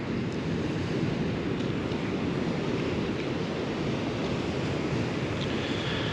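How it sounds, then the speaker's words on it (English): Sea waves rolling in on the Welsh coast, a continuous broad roar of surf mixed with wind buffeting the microphone, steady and fairly loud without speech. "Something relaxing, isn't there, about the waves coming in and the sound of the sea."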